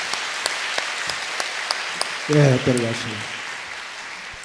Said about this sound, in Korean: 격려하는 마음으로 박수하겠습니다.